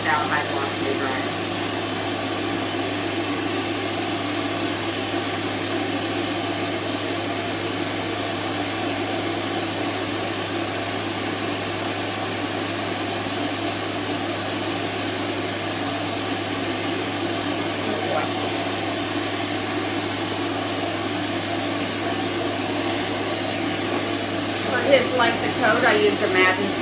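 A pet hair dryer, used to blow-dry a Coton dog after a bath, blows steadily on high for the whole stretch. It gives a constant, moderate whooshing hum.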